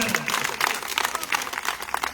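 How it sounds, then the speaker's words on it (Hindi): A crowd at a workers' union rally protesting anti-employee policies claps in a brief, moderately distant burst of scattered applause. "जोरदार ताली"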